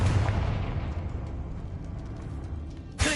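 The Confringo fire spell going off in Hogwarts Legacy, a loud, rumbling fiery burst that roars and slowly fades, followed by a sharp fresh crack near the end.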